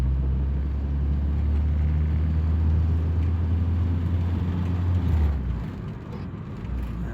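A 1986 Honda Accord with a swapped-in Integra transmission pulls along in third gear, its engine and road rumble a steady, close drone that eases off briefly near the end.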